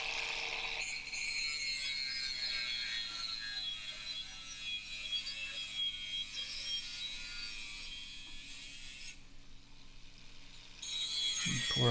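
Metal is ground by hand while a metal detecting digging tool is shaped, a sustained harsh rasping hiss that holds steady for most of the clip, drops out briefly near the end, then returns abruptly louder.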